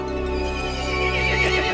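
Horse in a Resident Evil Village cinematic giving a loud, close whinny over a sustained tonal music bed, with a brief hoof clop near the end.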